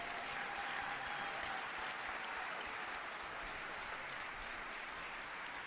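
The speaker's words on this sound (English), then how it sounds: "On peut l'applaudir très fort." Steady, dense applause from a sizeable crowd at a Sadhguru event in Paris, continuous and even in loudness for several seconds with no voices breaking through.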